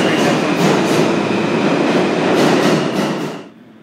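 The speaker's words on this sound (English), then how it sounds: "The D train is the first train to show up." A New York subway D train rumbles loudly and steadily into a station with a rhythmic clatter of wheels, then the noise drops off sharply near the end as it comes to a stop.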